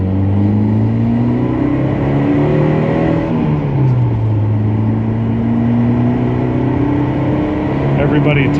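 A 1980 Porsche 924 driven on the road, its engine note climbing and dropping through gear changes with a steady whir, heard from inside under ongoing talk.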